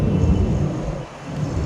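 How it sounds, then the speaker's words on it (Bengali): Thunder rumbles low and heavy during a hailstorm in the mountains at Katra, Jammu, a deep rolling growl that briefly dips and swells again, with no voices. "মেঘের গর্জন আছে বলে তোমরা বুঝতে পারছো"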